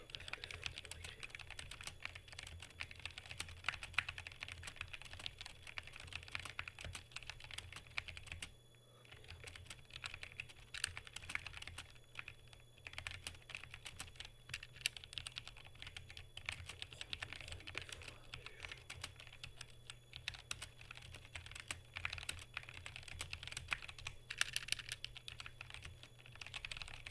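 Steady, continuous typing on a computer keyboard, close and soft, with dense rapid key clicks running throughout and a brief pause near the middle, no voices.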